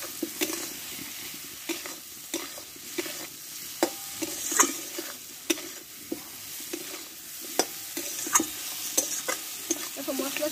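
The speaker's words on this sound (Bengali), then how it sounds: "এবার কষে রাখা কাঁচা কলাগুলো আমি এতে ঢেলে দেবো। মশলার সঙ্গে ভালোভাবে একটু আমি কষে নেবো সবগুলো।" Raw green plantains sautéed with spices in a pan, a continuous soft sizzle broken by regular scraping stir strokes of a spatula, close and alone.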